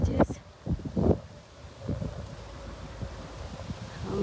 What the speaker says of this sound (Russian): Возможно, ветер только в этом районе, потому что сегодня не было ветра совсем.